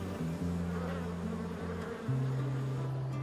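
Honeybees buzzing around the hive entrance, where workers fan and guard, a steady layered drone of many wings with shifting tones, close and continuous throughout.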